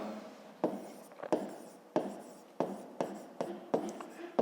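A pen moves across paper in a series of short, close strokes, each a quick scratchy burst with small pauses between them, as a maths exercise gets written out.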